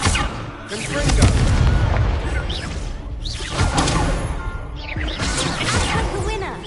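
Confringo fire spell blasts in Hogwarts Legacy, several loud booming explosions with whooshes and crashes across the clip, a voice calling out the spell among them.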